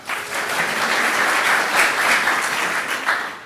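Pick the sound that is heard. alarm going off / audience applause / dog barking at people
audience applause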